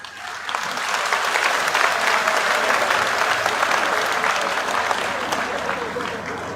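A crowd at an Indian political rally where a politician speaks breaks into loud, steady applause that swells within the first second and holds for several seconds with light crowd noise mixed in.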